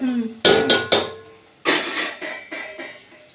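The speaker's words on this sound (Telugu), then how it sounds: "చికెన్ వేసేస్తున్నా" Chicken pieces tipped from a plate into a pan of cooked onions produce several sharp, close metallic clanks and thuds in irregular bursts, each ringing briefly before fading.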